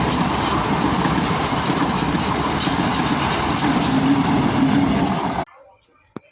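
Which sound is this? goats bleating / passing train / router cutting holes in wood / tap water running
passing train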